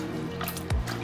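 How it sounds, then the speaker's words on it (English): A grouting sponge plunged into a bucket of water, giving a single close splash and gurgle of liquid, brief and fairly loud against a quiet background. "So we just soak the sponge."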